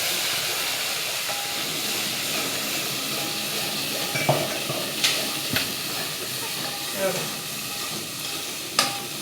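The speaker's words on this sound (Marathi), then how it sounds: "आता त्या मसाल्याला चांगलं परतून घेते।" Chicken masala frying in hot oil, a continuous hissing sizzle with occasional sharp spatula clinks and scrapes as it is stirred, close and without speech.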